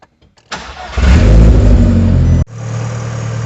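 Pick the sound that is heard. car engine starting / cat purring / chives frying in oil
car engine starting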